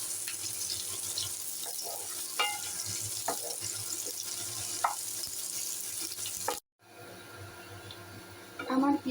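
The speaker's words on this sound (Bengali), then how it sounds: "এবার নেড়ে চেড়ে ঝাল আর পেঁয়াজটা খুব সুন্দর করে ভেজে নেব" Chopped chili and onion sizzle in hot oil for a chola bhuna, a steady broadband fry with intermittent scraping clinks of stirring, broken by a brief near-silent cut before louder sizzling and scraping resume at the end.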